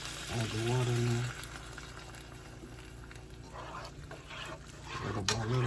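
Water poured little by little into a pan of frying mustard pork chops, with a quiet sizzle and bubbling that holds throughout and brief bursts of talk at the start and end.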